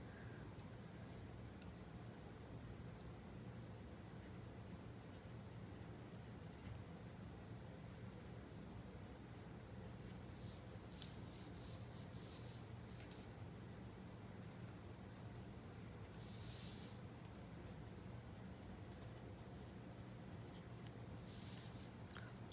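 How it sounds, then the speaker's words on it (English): Pen writing in a Happy Planner, a steady faint scratching and scraping of the tip on paper that runs throughout with small pauses, quiet and close with no talk. "now let me just write down a few things that I need to do."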